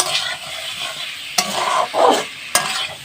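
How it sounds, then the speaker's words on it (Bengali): A spoon scrapes and stirs half-boiled potatoes frying in a chicken curry pan, with a steady sizzle under a few sharp clacks against the pan and brief bursts of louder frying close by. "এরপর এটা নাড়াচাড়া করব, কারণ আলুটা এখানে হাফ বয়েল হয়েছিল, আর এখানে ফুলে হবে।"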